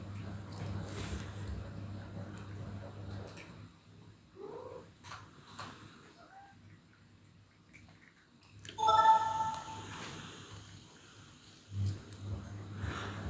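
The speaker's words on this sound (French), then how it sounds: "C'est quoi cette sonnerie nulle là que tu as mis?" A phone ringtone plays a short, bright, tonal burst partway through, rising loudly above a quiet room with a low steady hum.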